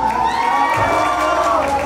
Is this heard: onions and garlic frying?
no